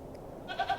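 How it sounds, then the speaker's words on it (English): A goat in the adventure game The Excavation of Hob's Barrow gives short, close bleats in the last half second, two or three quick wavering cries after a quiet lead-in. "A goat."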